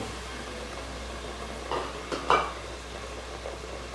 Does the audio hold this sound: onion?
yes